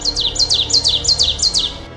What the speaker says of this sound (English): I'll bet you hear this bird all the time,